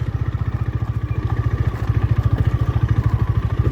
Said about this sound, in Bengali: দেখি অফ রোডে চালিয়ে এই বাইকটা